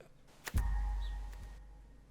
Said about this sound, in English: That noise of when something finishes crafting.